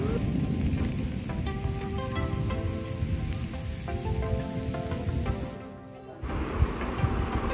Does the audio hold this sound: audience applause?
no